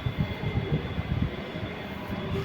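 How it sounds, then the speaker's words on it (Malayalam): A Kollam–Alappuzha express special train stands at platform 4, giving off a low, uneven idling rumble with soft pulsing throbs that stays steady and fairly close, with no talking. "നമുക്ക് പോകേണ്ട ട്രെയിനാണ് ഈ കിടക്കുന്നത്"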